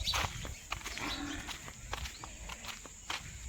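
Hooves shuffle and thud irregularly as cattle, including cows, move about nearby after fodder is thrown in a home courtyard, with scattered knocks and rustling and no voices.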